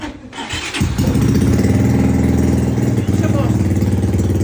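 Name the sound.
fuel-injected motorcycle engine starting by push button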